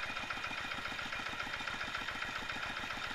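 A diesel car engine idles smoothly and steadily, a low, even mechanical thrum with a regular fast pulse, heard close and alone.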